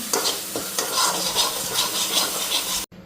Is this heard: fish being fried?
yes